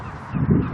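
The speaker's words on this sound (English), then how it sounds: "We've got some seagulls here." Seagulls on the coast at the Lees near South Shields give a short harsh call that swells loud near the end, heard close over wind and open-air noise.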